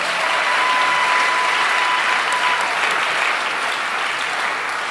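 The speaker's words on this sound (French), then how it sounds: "Nous acclamons tout le comité." A church congregation at a gathering gives the organising committee a round of applause: thick, even clapping from a large crowd that holds steady for several seconds.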